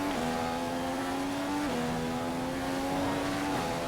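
Race car engine in a racing video game holding a steady, droning tone under light throttle, with brief dips in pitch around gear changes, continuous and close throughout.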